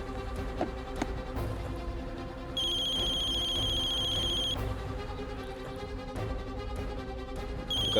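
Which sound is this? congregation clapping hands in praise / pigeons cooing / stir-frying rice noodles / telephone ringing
telephone ringing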